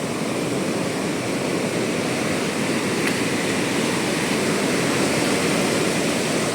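A steady, heavy roar of sea waves surging against a sea wall at Ganpatipule on the Ratnagiri coast, a continuous rushing wash of water with no distinct pauses.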